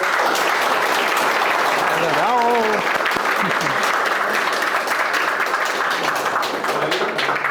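Audience applause closing a training session on engine thermal management, steady dense clapping from a room of attendees, with a brief voice and a whistle-like call rising over it early on.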